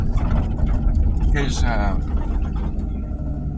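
A car rumbles steadily along while driving into town, a loud, close, low engine and road drone filling the cabin, with someone talking over it.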